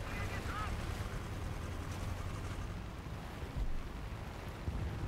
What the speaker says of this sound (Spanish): Oigo muchas hélices.